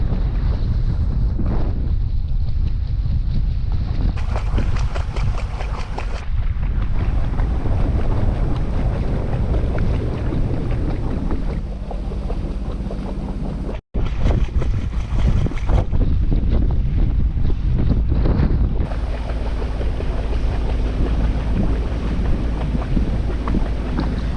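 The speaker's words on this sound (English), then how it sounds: "A little bit windy." Strong wind buffets and roars across the microphone continuously on the Alaska Peninsula coast near tidal flats, with rumbling gusts and a brief dropout.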